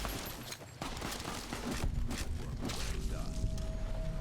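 Enemy gunfire in the video game Fallout: New Vegas, a rapid, crackling volley of shots at moderate distance, fairly quiet and continuous, with the game's ambience underneath.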